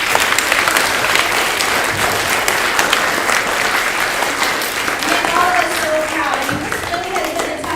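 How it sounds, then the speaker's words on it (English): An audience at a school event applauds a class of fourth graders with sustained, dense clapping, loud and steady throughout, with a few faint voices and tones mixed underneath. "Let's give all of our 4th graders a round of applause."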